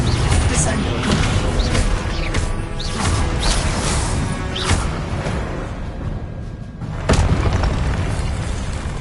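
A heavy Descendo spell slam from Hogwarts Legacy booms loudly through dense game noise, with several thumping impacts and whooshes over about nine seconds.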